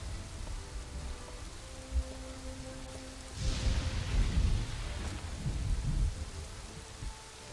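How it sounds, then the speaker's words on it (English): Heavy rain falls steadily in the Kingdoms and Castles city-building game, and partway through a deep roll of thunder rumbles in and slowly fades under the constant hiss of the downpour. "And a little bit of heavy rain, which is never good for your fields."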